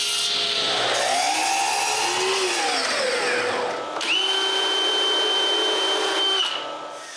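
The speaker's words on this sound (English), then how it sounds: "So I cut some spacers." A power tool cuts spacers for a CNC machine build, its motor whine rising and falling in pitch as it bites through material, then settling into a steady high tone before trailing off.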